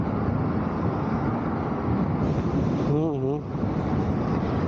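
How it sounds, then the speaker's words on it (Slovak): Strong wind buffets the microphone beside the Danube near a long bridge and still water, a steady roaring rush throughout with a brief tonal whine near the middle. "to je taký silný vietor"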